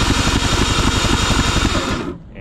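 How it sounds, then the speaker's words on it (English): A two-stroke outboard engine, spark plugs out and oil in the cylinders, is cranked over for a spark test. It makes a loud, rapid, even rattling chug that stops abruptly after about two seconds. "I'm gonna do a quick test to see if the engine sparks."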